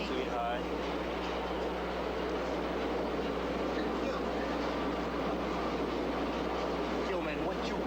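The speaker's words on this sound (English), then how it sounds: "Just riding the train." Steady rumbling clatter inside a moving train car on its rails, continuous and fairly loud, with muffled voices faintly underneath.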